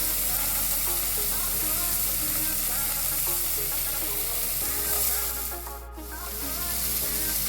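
Frozen mixed vegetables and curry sizzle loudly and steadily in a pan, a dense continuous hiss that briefly dips before resuming.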